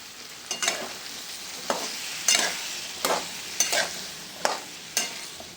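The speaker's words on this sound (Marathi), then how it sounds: "मसाल्यामध्ये बटाटे छानपैकी फ्राय करून घ्यायचे." Cut potatoes frying in spiced oil in a pan, a soft steady sizzle broken by about eight regular scraping stirs of a spatula, close and with no talk.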